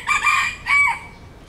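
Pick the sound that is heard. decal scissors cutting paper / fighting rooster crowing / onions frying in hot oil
fighting rooster crowing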